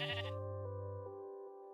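A single Minecraft sheep bleat, clear and tonal with a wavering harmonic buzz, about a second long and fading out, heard alone.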